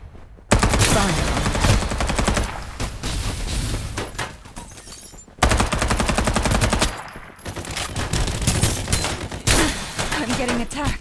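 Rapid bursts of automatic gunfire in the battle royale video game Farlight 84, loud and nearly continuous across the clip, with a short gap midway and layered game effects mixed in.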